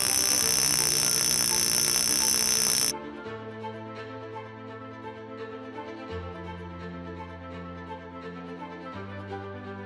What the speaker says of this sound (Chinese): 并听见品牌独家且特殊的蟋蟀闹铃声。